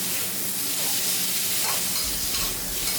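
Blanched pork liver stir-fries with spice paste in a hot pan, a loud, constant crackling sizzle with bursts of stirring and steam, close up and uninterrupted by speech.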